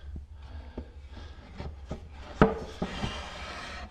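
Wooden corner pieces for a furniture build are stood up and fitted together, giving soft rubbing and scraping with a few sharp knocks and taps, close by and moderately loud.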